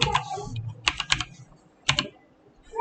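Typing on a computer keyboard while entering data in Tally Prime accounting software, a few separated clusters of crisp key clicks close to the microphone in an otherwise quiet room.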